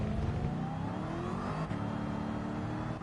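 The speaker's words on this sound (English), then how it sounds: "the supercharger and the big brilliant V8 engine" Supercharged V8 engine in the racing game Gran Turismo 7 droning at high revs, a continuous rising whine and roar heard steadily and moderately loud with no talk.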